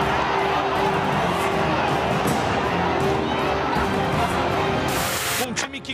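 A football crowd of fans fills a stadium during a 2019 Série B match between Vitória and Bragantino, a sustained roar of many voices with a louder swell near the end.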